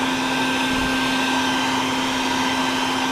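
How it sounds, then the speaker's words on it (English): Vacuum cleaner sucking up baldfaced hornets at a nest removed from under a house eave, a steady loud motor whine with constant airflow hiss throughout, no voices. "It'll make it a little bit more manageable for me to vacuum."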